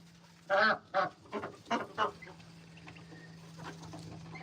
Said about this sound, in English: when you talk, they quack